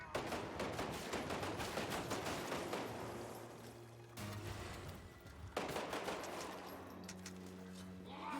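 Loud, sustained automatic gunfire in Resident Evil on the Sega Saturn, rapid close shots in long bursts with short pauses between volleys.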